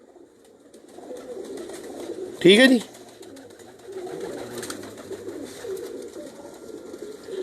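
Racing pigeons kept by a pigeon fancier coo softly in the background while someone talks over them, with a brief louder burst of wingbeats or handling in the middle.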